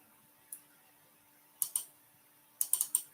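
Computer keyboard keys clicking in short, sparse bursts: a single tap, then a quick pair, then a rapid cluster of four or five, crisp and close in a quiet room.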